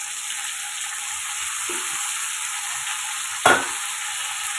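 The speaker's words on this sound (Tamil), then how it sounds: "இதையும் நம்ம வதக்கி எடுத்துக்கோங்க" Drumstick pieces and tomato with salt sauté in a pan, a steady close hiss of frying with one brief clatter of stirring midway.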